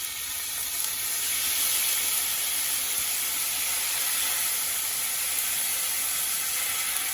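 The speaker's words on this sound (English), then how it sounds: "So we're gonna put in a little Prosecco in here." Prosecco hits a hot pan with a pat of butter to deglaze it, giving a steady, loud, continuous sizzle and hiss with no talking.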